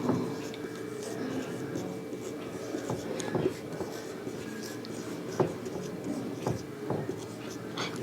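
Pen or marker writing out coding identifiers on a board in a classroom lesson, a steady faint scratching with occasional sharper taps, running under a quiet room.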